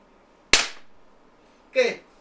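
A RAM combat pistol fires one sharp, loud crack that decays quickly, followed about a second later by a short muffled voiced sound.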